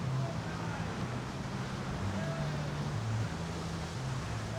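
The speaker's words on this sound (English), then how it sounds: "Very windy." Strong wind blows at a lagoon resort, a dense constant roar buffeting the microphone with a steady low hum underneath.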